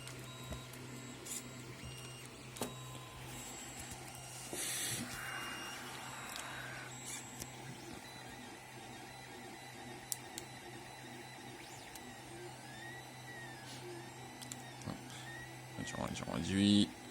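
A homemade coil winding machine runs with a steady, low mechanical whir and hum, broken by occasional clicks and brief rising whines, with a louder clatter at the very end.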